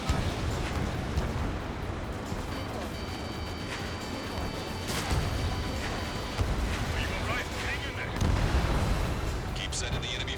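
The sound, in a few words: missile launch and explosions in video game Ace Combat 7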